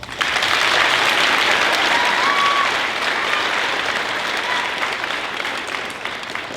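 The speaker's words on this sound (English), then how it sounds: "give him a round of applause" A concert audience applauds a band teacher at a spring band concert, a dense steady wash of clapping that holds for several seconds and tapers slightly toward the end.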